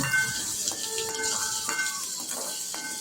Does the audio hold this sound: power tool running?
no